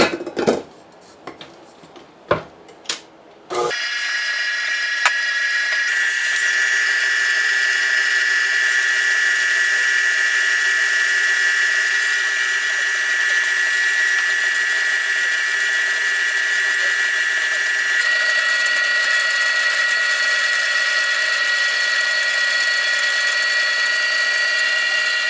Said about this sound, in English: Put this on my mixer, put my dough hook on,